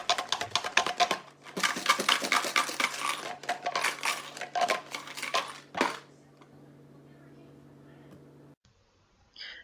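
Toy blocks rattle inside a taped sanitizer container shaken like maracas, giving bursts of dense clattering for about six seconds that then stop, heard close with a faint background hum.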